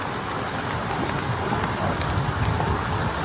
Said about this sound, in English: It was pouring rain in the early morning hours of August 2nd